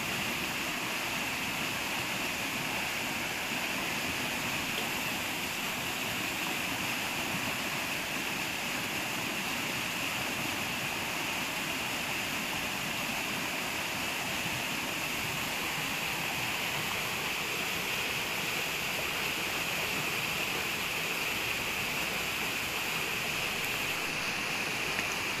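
Churning, rushing water in a forest, a dense and steady roar that holds at one level with no pauses, close and continuous, with no voices over it.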